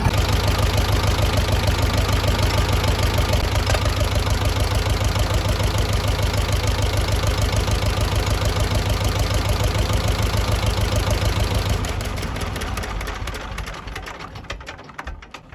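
A 40-year-old tractor engine runs after its oil centrifuge was replaced with an oil filter, idling with a steady, even, close chugging that drops away toward the end.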